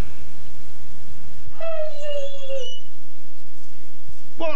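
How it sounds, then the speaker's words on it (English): A dog howls in a rising, wavering tone lasting about a second, with a second brief yelp near the end, over a quiet indoor background. "what's the matter with that damn dog?"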